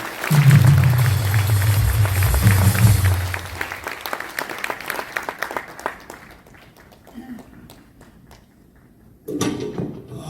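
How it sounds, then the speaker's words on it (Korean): A burst of applause from a church convention crowd fills the opening seconds, then thins to scattered claps and murmuring before a brief swell of noise near the end. "우리 박수 한번 해주시기 바랍니다"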